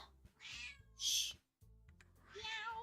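A cat meows three times, close and fairly loud, with short pauses between the cries and a faint low background hum underneath, with no talk.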